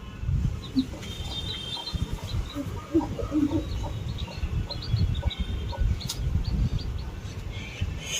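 Hens and their small chicks cluck and peep in a farmyard, the hen's soft clucks mixing with the chicks' thin high cheeps over faint background noise and a distant voice.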